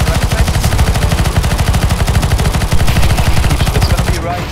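Rapid, continuous automatic gunfire from a CS:GO zombie escape match on the ze_hsc_a4 map, loud and close with a steady rhythm of shots throughout and no talking.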